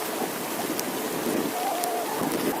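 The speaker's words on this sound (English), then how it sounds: "that rain's coming down now" Heavy rain pouring down during a ride on a budget RCB G5 e-bike, a dense, steady wash of hiss filling the whole stretch, with faint clicks and patters over it.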